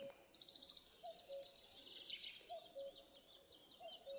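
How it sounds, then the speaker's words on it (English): A cuckoo calls from a distance along the Camino trail between Villafranca Montes de Oca and Cardeñuela Riopico in Spain, its faint repeated two-note call recurring every second or so beneath closer, bright chirping songbirds. "Thank you, Cuckoo Bird."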